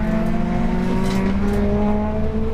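Caterham race cars on a track during a track day, engines droning steadily at high revs, loud and close, with a faint rise and fall as cars pass.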